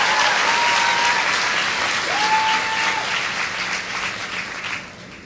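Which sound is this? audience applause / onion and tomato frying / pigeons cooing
audience applause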